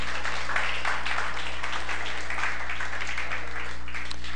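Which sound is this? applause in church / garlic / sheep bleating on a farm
applause in church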